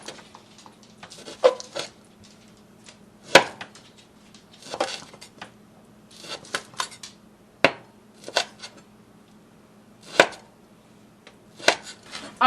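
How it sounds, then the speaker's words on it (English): A knife chops green onions on a cutting board in a home kitchen, about a dozen sharp separate knocks spaced irregularly, some in quick pairs, close and clear over a quiet low hum with no talking. "I'm just about done cutting these onions"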